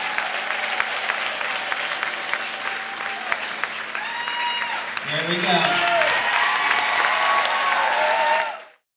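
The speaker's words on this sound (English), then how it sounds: "Let's give them a round of applause." Crowd applause and cheering at a school assembly, loud sustained clapping with whoops and shouted voices rising midway, then cutting off abruptly; someone speaks briefly over it.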